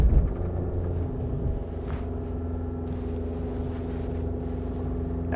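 A Honda CR-V engine held at full throttle during an off-road traction test, a steady, loud low drone with a constant rumble and little change in pitch, no voices over it.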